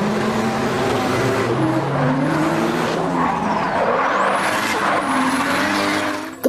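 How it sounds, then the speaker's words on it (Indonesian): A toy race car's engine sound plays loud and continuous, a droning motor with rising and falling tones and squealing, close up without speech. "Mobil balap teman-teman."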